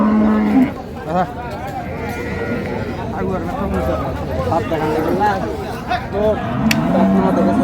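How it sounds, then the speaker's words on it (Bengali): Dairy cows and calves low at a busy rural cattle market in Raniganj, Dinajpur, with a couple of short moos rising above constant crowd chatter and nearby talking. "চলেন একটু গরুগুলা দেখি"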